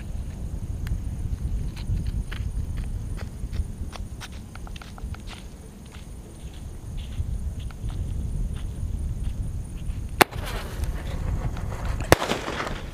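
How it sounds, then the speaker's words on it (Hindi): A small Sunshine brand sky shot firecracker goes off during Diwali: two sharp pops a couple of seconds apart, after a stretch of quiet outdoor shuffling and footsteps. "ये सनशाइन का छोटा सा स्काई शॉट, आवाज़ अच्छी थी"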